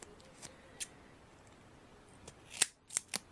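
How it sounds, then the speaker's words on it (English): Scissors cutting strips of adhesive tape for a card-making project: a few sharp, close snips spaced apart, the loudest cluster near the end, in a quiet room. "So I'm going to cut a strip of that, and I'm actually going to cut a second strip too"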